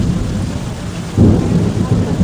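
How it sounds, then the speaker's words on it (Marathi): Thunder rolls low and heavy through a pre-monsoon May downpour, the deep rumble swelling midway over a constant wash of rain. "आवाज ढगांचा कडकडाटने हा पाऊस पडतो."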